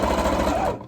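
A sewing machine runs in a dense, rapid stitching burst while sewing a drawstring bag, loud and close, then stops abruptly near the end.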